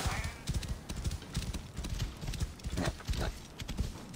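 Horse hooves clip-clop steadily in Assassin's Creed Origins, a brisk rhythmic gait close by with a brief whinny, over game ambience.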